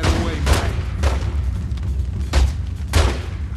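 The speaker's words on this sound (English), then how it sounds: "I think I have to shoot with a pistol." Pistol shots in The Godfather 2 game, several sharp reports at irregular intervals over a low rumbling background.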